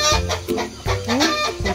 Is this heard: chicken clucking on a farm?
yes